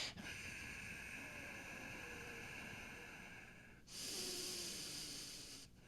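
Steady ujjayi breathing in a yoga practice, slow audible throat-constricted breaths with a soft ocean-like hiss, continuous and close, with a brighter, louder breath toward the end.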